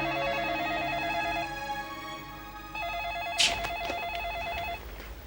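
A telephone rings in two bursts of a warbling electronic trill, fairly loud indoors, with a brief clatter between rings as the handset is picked up.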